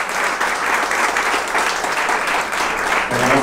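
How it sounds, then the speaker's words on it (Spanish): Sustained applause from an audience at an award ceremony as an honoree, a company CEO, is recognized; dense, steady clapping fills the whole stretch at close range. "Un aplauso para él también."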